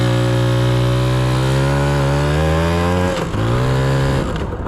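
A Jianshe 80 dirt bike engine runs steadily close up, a loud buzzing two-stroke-style drone that dips briefly near the end before revving back up, with no talk over it.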